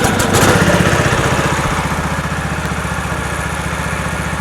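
A 1970s PUG UTV engine fires up and settles into a steady, loud, close-up idle with a rapid regular putter, the first half-second rougher as it catches.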